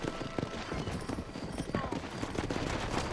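Horse hooves clip-clop in Red Dead Redemption as a rider sets off beside a wagon, a steady rhythmic trot mixed with game ambience, scattered gunfire-like cracks and a faint voice in the background.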